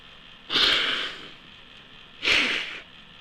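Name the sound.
sneeze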